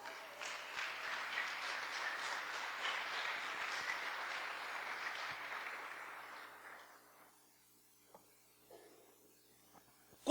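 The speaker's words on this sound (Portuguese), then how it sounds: "Dá um aplauso para Jesus" A congregation at a church service applauds for several seconds, a soft, even patter that fades out, leaving near silence with a few faint knocks.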